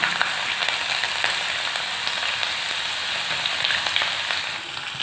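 Whole spices including cinnamon frying in hot oil give a loud, steady, close sizzle that continues without pause, with faint crackles and pops scattered through it.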